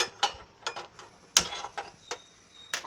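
A kitchen gas stove being switched on, its igniter giving a series of sharp, irregular clicks, close and fairly quiet, with no talking.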